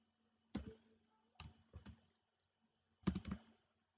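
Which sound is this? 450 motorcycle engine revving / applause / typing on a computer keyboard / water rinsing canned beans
typing on a computer keyboard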